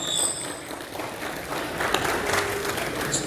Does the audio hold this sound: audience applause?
yes